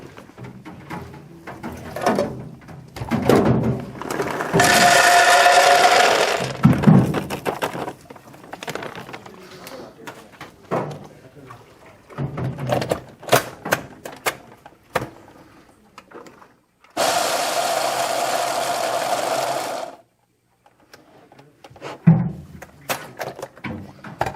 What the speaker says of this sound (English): what we have is pistachio nuts, and what we're going to do is they're big, so we'll just give them a quick grind up in the machine